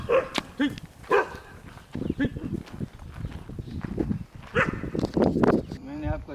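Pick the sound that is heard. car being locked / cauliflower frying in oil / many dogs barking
many dogs barking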